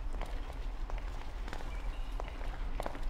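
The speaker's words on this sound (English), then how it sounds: "Who's this other footsteps I'm hearing?" Footsteps in the stealth game Thief, a quick run of soft, regular steps over a low rumbling ambience, close and moderately loud.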